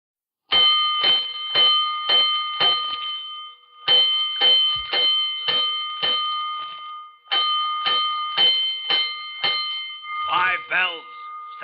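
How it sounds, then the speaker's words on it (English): Fire alarm bells from an old radio drama strike in three rhythmic groups of about five sharp, ringing clangs each, loud and close, followed by a quick rattling burst. "Five bells. Stand by all stations. Attention, all districts. A 5-alarm fire. 5 bells."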